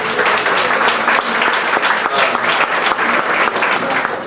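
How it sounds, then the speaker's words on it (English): Audience at a school board meeting applauds Rotary for supporting Arcata High School, dense steady clapping from many hands sustained throughout at even loudness. "I think we should give them a round of applause."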